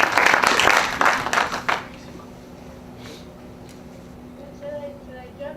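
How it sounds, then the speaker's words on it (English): An audience applauds a lecturer, a short burst of clapping that dies away within two seconds, followed by quiet room tone. "let's give her a quick round of applause"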